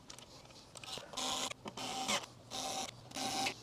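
Short bursts of whirring from a small electric screwdriver driving screws while an Audi e-tron eFoil is put together, about four spurts with brief pauses between them, recorded close.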